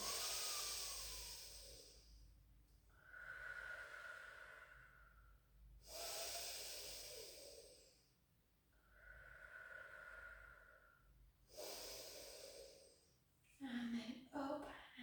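Slow, deep breaths during a pilates workout for strength, balance and posture, each long inhale and exhale rising and fading in a steady rhythm, close and clear, with a few brief rustles at the end.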